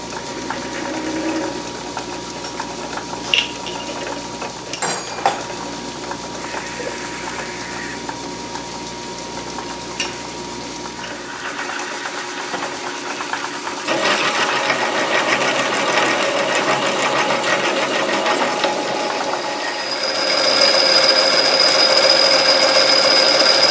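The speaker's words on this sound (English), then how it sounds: "Now I got to drill a hole in this." A power drill bores a hole into a wooden router table fence, with a steady mechanical whir and a few clicks. It gets louder and harsher from about fourteen seconds and rises again near twenty seconds as the bit works through the wood.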